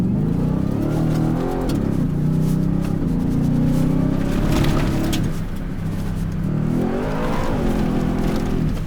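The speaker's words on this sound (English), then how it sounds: "I wonder what people think when they hear this engine just screaming." A Ford F-150 Raptor R pickup truck engine revs hard and loud, its pitch climbing and dropping in waves as it screams through the gears, steady and close throughout.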